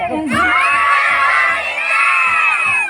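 A crowd of children at a Romanian carol-singing gathering shouts a loud, sustained cheer of hurrah, one long collective yell over about two seconds, preceded by a brief voice.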